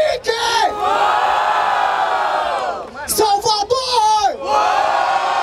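At a rap battle in Barueri, São Paulo, a large crowd roars with loud sustained cheering and shouting. The noise dips briefly and then surges again.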